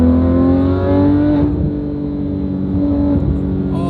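Porsche GT3 RS flat-six revving high, a loud sustained wail that dips briefly mid-way and then climbs again, heard close and alone.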